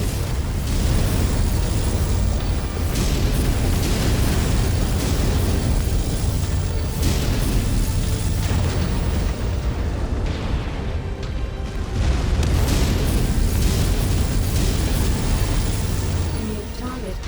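Missile explosions in the MechWarrior 5 video game played in VR, a continuous loud rumble of blasts and booms with little letup, close and dense, with a voice speaking over the barrage.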